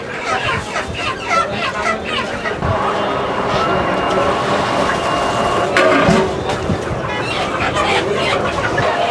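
Broiler chickens cluck at a busy market, heard close and steady under people talking, with passing vehicle noise behind them.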